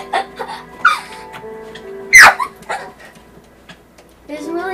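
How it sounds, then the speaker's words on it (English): A tamed wolf dog in the Minecraft video game gives short yips and barks mixed with whimpers, heard amid excited talking and laughter. "My dog kills you."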